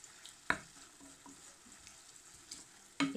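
Beef stir-fried with chili in a pan: a quiet, continuous sizzle with two sharp scraping clatters of the utensil, heard up close with no talking.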